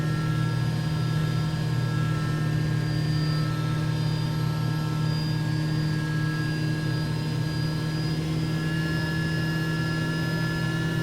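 A simulated Bell 429 helicopter in X-Plane 11 runs at raised throttle, giving a steady, loud turbine whine layered over a deep rotor drone that holds constant throughout.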